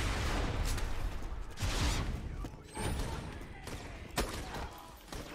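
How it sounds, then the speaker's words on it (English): Sniper rifle shots in the video game Borderlands 2 land as a few separate, heavy reports spaced a second or so apart, each with a short decaying tail, while people talk quietly between them. "I love the sniper rifle. I can take 10 shots with hardly any recoil."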